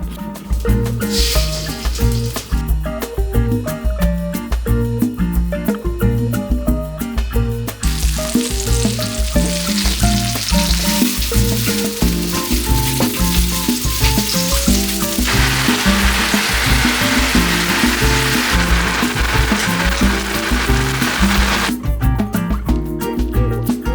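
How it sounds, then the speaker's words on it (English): Seasoned food sizzling steadily in a pan on a home stove, a loud continuous frying crackle with occasional stirring and no talk. "I'm gonna season it and just throw it on a pan and cook it lightly"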